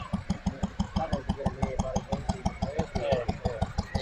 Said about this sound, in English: model engines that from the 20s, beautifully restored